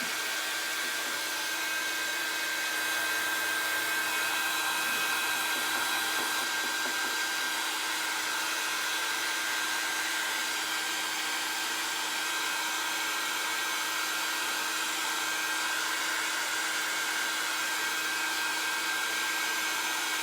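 A heat tool blows steadily to dry chalk ink and paste on a coffee mug chalkboard, an unbroken loud fan-like whoosh with a constant whine that runs the whole time and carries no talk.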